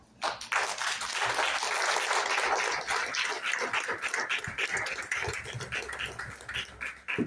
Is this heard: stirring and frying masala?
no